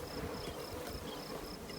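Dense, steady buzzing of many honey bees at an active colony in a farmhouse eave, close and continuous with no talking.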